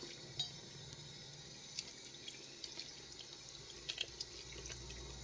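Running tap water over hands being washed with soap to rinse off oil, a steady broadband splash with a few small clinks and drips, close by and alone.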